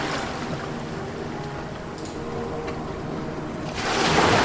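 Rolling sea waves wash steadily and close, a continuous broadband surge that swells louder near the end, with a few brief splashes breaking through.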